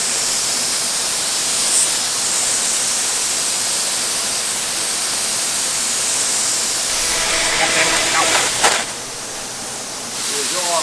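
A coat of lacquer sprayed onto an abandoned Pontiac being restored: a steady, loud, close hiss of spray that runs without a break for the whole stretch and grows slightly harsher toward the end.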